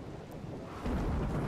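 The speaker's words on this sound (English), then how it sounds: "Luckily, it's raining." Rain and rumbling thunder in RimWorld: a dense, steady low roar that swells louder partway through, with no voices over it.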